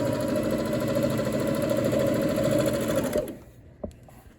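A sewing machine stitches rag quilt seams with a half-inch seam allowance, a steady close whirring run for about three seconds before it stops, followed by a faint click.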